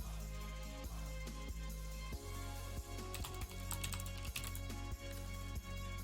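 Keys on a computer keyboard are tapped in a quiet, steady rhythm of soft clicks spaced roughly every half second, over a low background hum.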